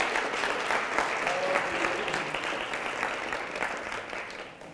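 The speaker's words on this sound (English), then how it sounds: "big round of applause" A conference keynote audience breaks into sustained applause, a dense wash of clapping from a large crowd that holds steady for several seconds before slowly easing off.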